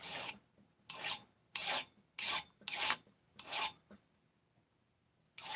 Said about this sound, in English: Let's hit this with a file.